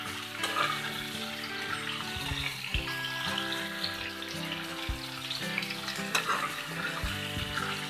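Small new potatoes and fenugreek leaves frying in a pan, a busy wet sizzle with irregular stirring knocks and scrapes throughout, close and moderately loud.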